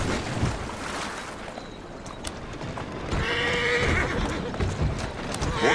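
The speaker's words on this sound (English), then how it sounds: "Who's a good horse? You are." Horse whinnying with clip-clop hooves in the game Assassin's Creed Syndicate, a clear neigh in the middle against steady background ambience and hoof thuds.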